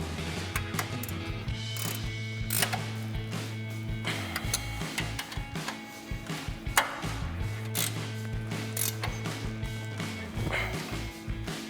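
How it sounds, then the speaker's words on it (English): A 21mm ratchet wrench tightening brake caliper bolts on a Jeep Wrangler JL, heard as steady rapid ratchet clicking and mechanical rattles in bursts, with a low droning hum beneath. "Now we'll get our 21mm ratchet wrench and tighten these back down."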